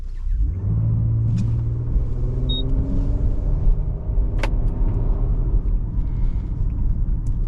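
A Nissan Murano's V6 engine rumbles steadily from inside the cabin while driving, with a low drone and a brief rise in pitch near the start.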